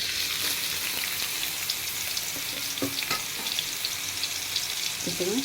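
Chopped onions sizzle and crackle steadily in hot oil while frying for homestyle egg fried rice, a continuous close hiss with a few spatula scrapes and pops, no talking.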